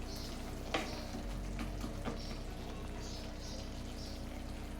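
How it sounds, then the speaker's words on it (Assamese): Carrots, cauliflower, peas and tomato are stirred in a pan, giving a low steady sizzle with a few soft scraping strokes of the spoon, close and fairly quiet throughout. "মই গোটেইখিনি ভালদৰে লৰাইছোঁ"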